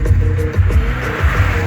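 Loud, close car interior noise while cruising along a road in Hawaii, with a rumbling engine and tire drone that pulses unevenly over a short stretch.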